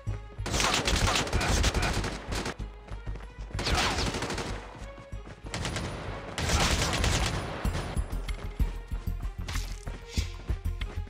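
Rapid bursts of gunfire from the mobile shooter game Call of Duty Mobile, in a battle royale match, come loud and dense in repeated volleys with sharp impacts and heavy low thumps.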